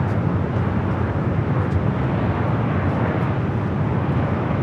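A Southwest Airlines airliner arriving at Los Angeles International Airport on a flight from Las Vegas gives a steady, loud broadband jet roar that holds unbroken throughout, with wind buffeting and no talk.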